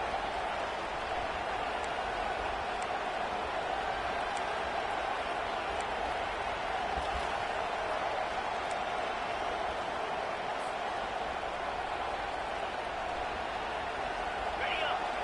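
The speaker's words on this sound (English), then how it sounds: "This crowd, full throat, spreading the eardrums and letting them know it's going to be a long day" A football stadium crowd roars in full voice, a dense, unbroken wall of cheering that holds steady at high level throughout, with an announcer's voice speaking over it.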